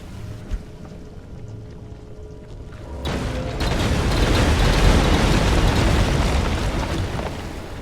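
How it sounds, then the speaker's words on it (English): Chain detonations of explosives in the Pacific Drive video game: after a quiet stretch a sudden burst sets off a loud, sustained roar of overlapping blasts that swells and rumbles on for several seconds. "the chain detonations tend to just fling the resources all over the darn place"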